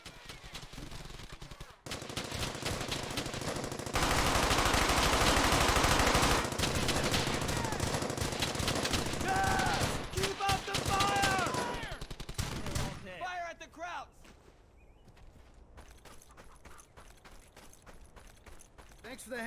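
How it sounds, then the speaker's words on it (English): Sustained machine-gun fire lays down covering fire during a World War 2 infantry squad battle in a video game, loud and continuous at first and then dropping away to scattered shots under the game's background noise. "Jasper sets up his machine gun and provides covering fire"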